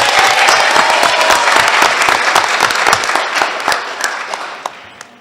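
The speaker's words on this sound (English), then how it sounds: "We can give her a round of applause." Applause at a board of education meeting as a coach comes forward, with many distinct close claps standing out from the crowd, loud at first and thinning toward the end.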